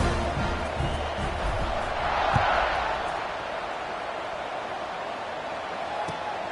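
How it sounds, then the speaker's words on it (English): Crowd at a college football stadium during a Missouri versus Oklahoma game, buzzing after a score, heard as a broad steady murmur that swells briefly before settling into a constant distant roar. "this crowd is buzzing after that last score"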